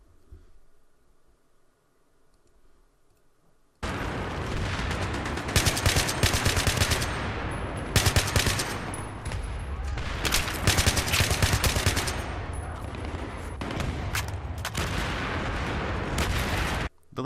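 Rapid AN-94 rifle gunfire in Battlefield 3, loud sustained bursts of shots with brief gaps, beginning after a few seconds of quiet background noise.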